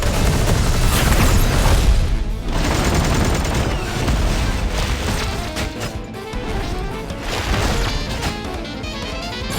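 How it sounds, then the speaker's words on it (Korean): An artillery bombardment in the video game Eversoul, with dense continuous booms, crashes and rapid blasts forming a loud, heavy barrage throughout. "전 기체군단 준비 완료. 포격 개시."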